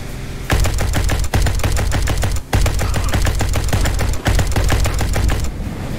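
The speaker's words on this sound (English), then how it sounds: "Now go and shoot the gas canisters until they catch fire." Rapid loud gunfire from Spacebourne 2, a sci-fi RPG video game, fired at gas canisters, rattling in dense continuous bursts with two brief pauses and no talking.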